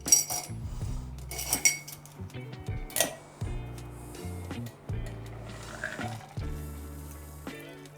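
A vodka and overproof rum cocktail is fine strained into a cocktail glass, with soft metallic clinks of strainer and shaker and a quiet pour in a calm room.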